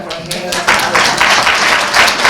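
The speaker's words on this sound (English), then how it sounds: "Let's clap our" A crowd clapping steadily and fairly loudly, sustained applause with dense overlapping hand claps throughout.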